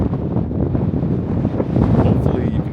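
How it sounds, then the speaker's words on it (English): Strong wind buffets the microphone on the Stone Mountain summit, a loud, continuous low roar that swells slightly toward the end. "The wind is pretty bad up here."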